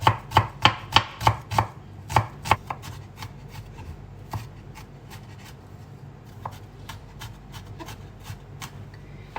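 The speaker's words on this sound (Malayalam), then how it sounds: "വെളുത്തുള്ളി ചോപ്പ് ചെയ്തെടുക്കാം." A knife chops garlic on a board with a fast run of sharp, close taps at first, then slower, scattered cuts that grow fainter.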